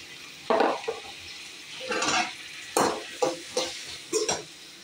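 Green chillies and sliced eggplant are sautéed in a pan, with bursts of sizzling and the scrape of a stirring spoon coming in several uneven strokes, close by, with no talking.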